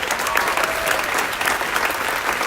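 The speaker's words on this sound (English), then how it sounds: "Please give them one more round of applause." Steady applause from an audience at an outdoor ribbon-cutting ceremony for a housing project, a dense, even patter of many hands clapping for about two and a half seconds with no voices over it.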